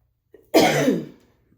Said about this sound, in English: I got a little cough.